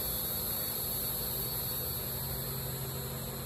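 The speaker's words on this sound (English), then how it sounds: "now I've got a cicada in the tree right above me doing that nonstop" A cicada in a tree directly overhead gives a continuous, even high-pitched buzz with no pauses, over a low steady hum, and no one speaks.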